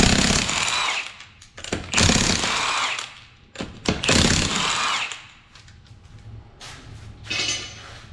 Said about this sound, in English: go ahead and remove this tire. Held on with 5 19mm lug nuts.